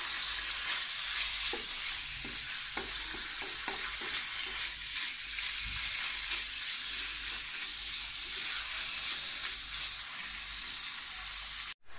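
Chicken sizzles loudly and steadily in a hot pan while the filling for chicken momos is made, with a few soft stirring scrapes and clinks close by and no voices.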